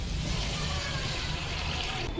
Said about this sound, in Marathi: त्याच्यामध्ये आता पाणी ओतणार आहे